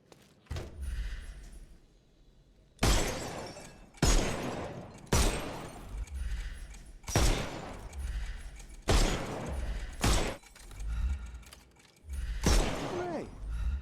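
Pistol shots fired at targets in the video game Sherlock Holmes: Chapter One ring out about seven times at irregular one-to-two-second intervals, each a loud, sharp report with a short echoing tail, in an otherwise quiet room.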